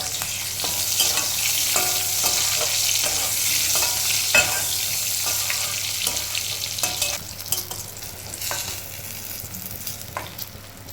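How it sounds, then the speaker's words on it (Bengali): Eggplant slices frying in extra oil added to leftover fish-frying oil in a wok, a steady dense sizzle with scattered crackles and occasional stirring scrapes throughout, fairly close and without voices. "একটি কড়াইয়ে মাছ ভাজার তেলে আরও কিছু তেল দিয়ে এর মধ্যে বেগুন ভেজে তুলে"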